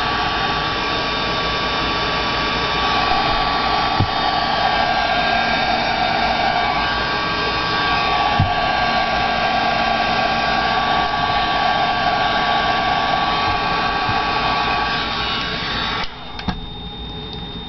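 A hair dryer blows steadily and close by for about sixteen seconds, drying gesso coats on a rock paperweight, then switches off abruptly near the end.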